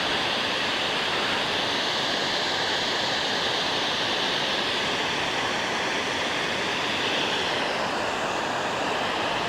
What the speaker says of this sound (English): Well, check this little creek out.